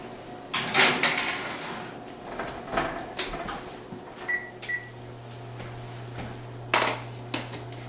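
A cake pan of pumpkin roll batter goes into a preheated 375-degree home oven: several close clattering metal knocks and bumps, a rack sliding, then a firm door shut, over a steady low appliance hum.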